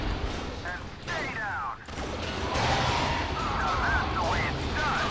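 A grenade explodes amid battle noise in the video game Star Wars Battlefront, a sharp broadband crash followed by rumbling blasts and scattered gunfire-like bursts, loud and close.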